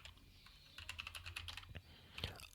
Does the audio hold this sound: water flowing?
no